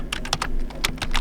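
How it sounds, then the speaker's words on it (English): Fingers tap keys on a computer keyboard, about eight quick close clicks in an uneven burst with no voices. "now you can press tab on your keyboard"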